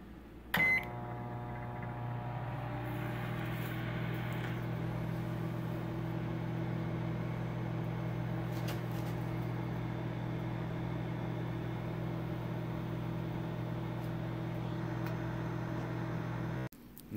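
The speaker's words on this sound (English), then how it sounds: "My microwave, about 2 minutes and 20 seconds is about perfect." A microwave oven hums steadily for about two minutes and twenty seconds, cooking pork skins, after a click starts it, the even drone ending abruptly near the close.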